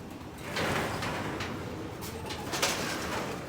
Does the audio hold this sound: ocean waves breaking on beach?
no